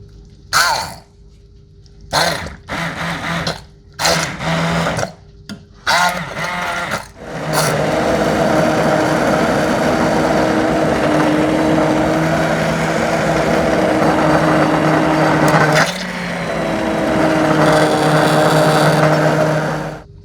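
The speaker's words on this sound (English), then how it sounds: "now it's time to use one of my favorite toys or tools in the kitchen, my immersion blender" An immersion blender purees homemade tomato marinara in a pot taken off the heat: a few short stop-start bursts at first, then a loud continuous motor whir that runs steadily to the end, close by.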